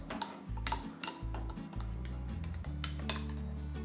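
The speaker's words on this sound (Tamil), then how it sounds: "இது நல்லா மிக்ஸ் ஆகிற அளவுக்கு நல்லா கலக்கி விடுங்க" A spoon stirring a salted summer drink, ticking and clinking steadily against the glass, close but soft, with a low hum underneath and no talk.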